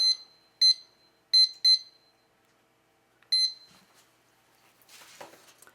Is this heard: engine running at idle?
no